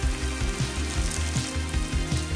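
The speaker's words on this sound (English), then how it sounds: "And now it's time to add the green chilies." Green chilies hit a hot pan of butter-garlic stir-fried squid, setting off a steady, loud sizzle with soft bubbling and stirring, and no talking.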